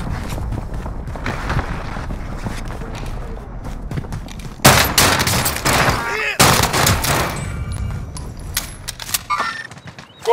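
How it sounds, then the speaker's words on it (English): Gunfire in the video game Call of Duty: Modern Warfare: rapid bursts of shots and sharp cracks crowd a busy battle mix, growing louder midway, with footsteps, gear rattle and brief character callouts. "Under fire here."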